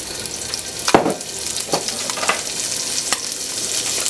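Ramen ingredients frying in oil in a pan, a constant sizzle broken by several scraping stirs and utensil knocks, close-up with no voices.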